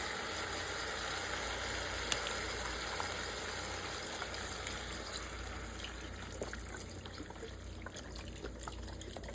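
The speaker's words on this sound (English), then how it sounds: "And I'm going to add some beef broth." Beef broth pours into a pot of diced tomatoes for braised beef shank, a steady liquid splash and trickle with a faint sizzle underneath, continuous and close for the whole stretch.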